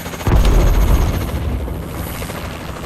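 A Warbird gunship in Call of Duty: Advanced Warfare uncloaks with a sudden loud deep boom and rumbling whoosh, which fades into a sustained low engine drone.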